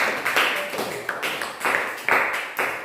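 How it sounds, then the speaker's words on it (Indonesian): Applause for two students in a classroom, a small group clapping in uneven bursts at close range, with rhythmic pulses of claps rising and falling over a few seconds. "tepuk tangan untuk Raudatul Jannah dan Adelia"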